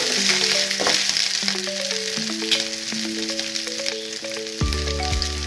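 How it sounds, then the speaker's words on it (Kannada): Ginger paste fries in a hot pan for a South Indian kara pongal, a loud, close, continuous sizzle with stirring scrapes and a brief hum of a tone near the end, with no talking. "ಸ್ವಲ್ಪ ಶುಂಠಿ ಪೇಸ್ಟ್, ಚೆನ್ನಾಗಿ ಫ್ರೈ ಮಾಡೋಣ."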